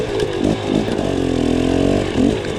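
Dirt bike engine double-blipped over logs: quick throttle swells rise and fall, with a brief rev near the start and another near the end over a steady running motor, close and loud.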